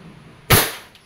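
A WE Glock 17 F-Series semi-automatic airsoft pistol fires a single sharp, loud crack up close, followed by a short fading tail.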